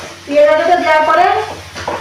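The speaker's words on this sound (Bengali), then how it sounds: "খুন্তি দিয়ে নাড়তে থাকতে হবে যেন নিচে বসে না পড়ে।" Onion paste frying in spiced oil for a home-style chicken kosha is stirred with a spatula, giving soft scraping and a light sizzle under a voice speaking close by.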